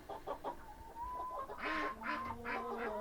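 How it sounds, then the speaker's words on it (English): Farm chickens of several breeds kept in separate pens, clucking in repeated short calls and drawn-out cackles at moderate distance, with a soft background hum. "These chickens we raise, we sell fertile eggs in the springtime, and a few baby chicks as well"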